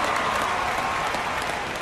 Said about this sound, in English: Crowd at the Polo Grounds likes that first out of the season.